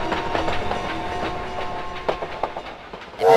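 A train at a Paris depot in the Valiant Hearts: The Great War video game rolls steadily with a rhythmic clickety-clack and a sustained tonal hum, close and fairly loud, ending in a brief louder hiss.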